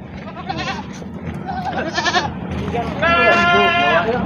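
Goats bleat repeatedly at a busy livestock market in Wadaslintang, Wonosobo, several loud, wavering cries close by amid crowd murmur and someone speaking.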